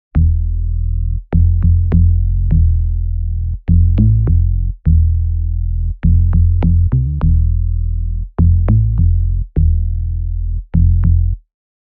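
Two layered basses in an Afrobeat loop programmed in Logic Pro X, playing deep sustained notes in short phrases separated by brief gaps, loud and clean with nothing else audible.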